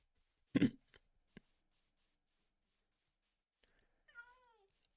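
A single cat meow near the end, rising then falling with clear harmonics, preceded by a few soft clicks and a brief dull thump in an otherwise quiet setting; no talking.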